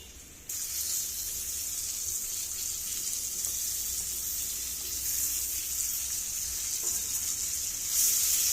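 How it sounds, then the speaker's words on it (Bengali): Sliced tomatoes fry in a hot pan with a steady, close, hissing sizzle that holds an even level throughout and swells slightly near the end. "বাদামি রং চলে আসলে এর মধ্যে আগে থেকে স্লাইস করা টমেটোগুলো দিয়ে দেব"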